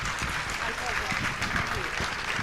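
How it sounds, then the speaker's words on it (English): Applause from a conference audience for a plenary speaker, a dense wash of clapping with some murmuring voices mixed in, steady for a couple of seconds. "I think she needs another round of applause."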